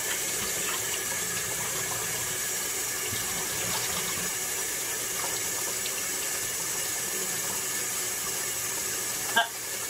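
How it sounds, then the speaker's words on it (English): Tap water runs steadily into a sink while hands are washed, a continuous close splashing rush with a brief knock near the end. "And then wash your hands."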